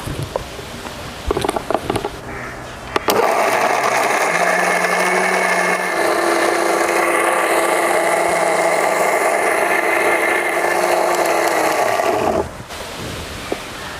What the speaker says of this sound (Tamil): இப்போ அதை நல்லா நம்ம அரைக்க போகிறோம்.